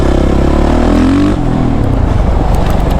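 A Suzuki RMZ 450 motorcycle engine revs hard while riding a track, loud and close, holding a steady high drone before dropping in pitch as it shifts down, a continuous raw engine roar.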